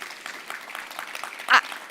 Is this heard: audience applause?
yes